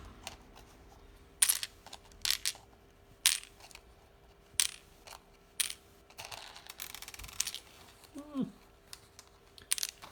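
Loose amber beads from an antique brooch drop and clatter onto a hard surface in a series of small sharp clicks, with faint rolling and quiet background sounds.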